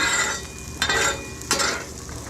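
Sweet potatoes fry in a little oil on a Blackstone griddle with a soft, close sizzle, broken by two sharp scraping strokes of a spatula on the flat steel.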